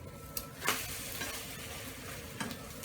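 Eggs frying in a pan for fried rice, a steady soft sizzle with a few brief scraping or tapping accents, fairly quiet and with no talking.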